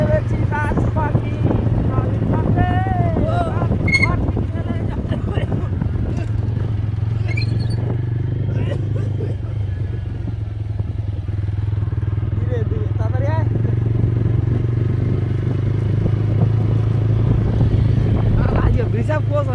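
A motorcycle rides at full speed on a foggy road, its steady low engine drone and rushing wind noise running continuously, with people talking over it.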